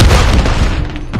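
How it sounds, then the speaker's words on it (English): Stun grenade detonating in a first-person shooter match, a very loud, close, heavy boom that fills the moment with low rumble and crackle. "Stun grenade!"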